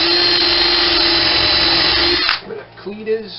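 A power drill drives a screw into a wooden cleat on a model railway classification yard build. It gives a close, high whine for about two seconds, then cuts off, followed by brief vocal sounds.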